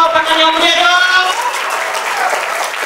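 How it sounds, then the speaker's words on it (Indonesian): Lively applause from participants at a Ramadan pesantren inspirational talk, a dense loud wash of clapping with a tonal voice or music briefly layered over it early on, then continuing steadily. "Sekali lagi kasih tepuk tangan yang meriah dong"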